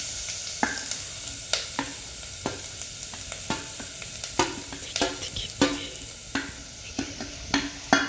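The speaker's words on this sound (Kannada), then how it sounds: "ಈಗ ಇದಕ್ಕೆ ತುರ್ಕೊಂಡಿರೋ ಅಂಥ ಮೀಡಿಯಮ್ ಸೈಜಿಂದು 1 ಕ್ಯಾರೆಟ್ ತುರಿ ಹಾಕ್ಕೊಳ್ತಾ ಇದ್ದೀನಿ." Grated medium-sized carrot frying in ghee for carrot kheer, with a steady close sizzle broken by regular scraping stir strokes, about one or two each second, with no voices.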